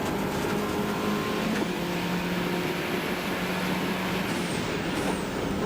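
Rover turbo race cars at Spa circuit in 1995 drone loudly and continuously, with engine tones shifting as they lift and brake into a corner.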